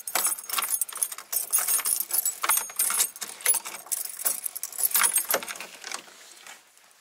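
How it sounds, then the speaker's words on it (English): Big bunch of keys jangling and clinking continuously for several seconds, close and fairly loud, as someone sorts through them to find the right one at a countryside house in Bosnia; no talk. "There's like millions of keys here."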